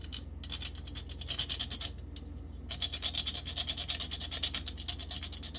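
Whole nutmeg rubbed across a small grater, giving a steady fast scraping rasp in continuous strokes with a brief pause partway through, close and fairly quiet.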